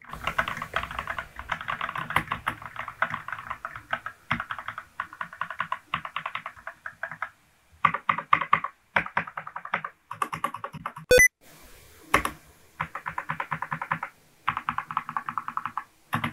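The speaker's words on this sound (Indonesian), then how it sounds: "karena memang ini red switch jadi dia tidak terlalu berisik saat kita menggunakan untuk mengetik" Rapid, soft clacking of an ASUS TUF Gaming K3 mechanical keyboard with red switches being typed on in bursts with short pauses, close up and fairly quiet.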